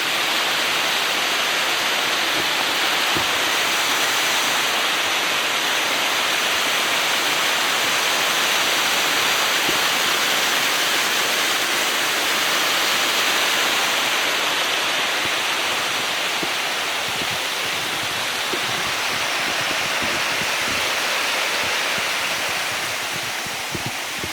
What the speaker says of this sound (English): Let's check out the water coming through here